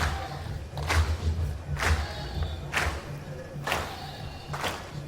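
Crowd at the 2018 PBA Tour Finals bowling stepladder broadcast, a steady murmur with bursts of cheering and clapping rising about once a second over a low arena hum.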